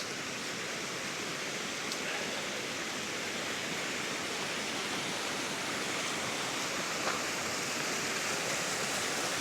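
A small waterfall tucked into a corner beneath towering granite faces in a forest gives off a steady, even rushing of falling water, alone with no voices.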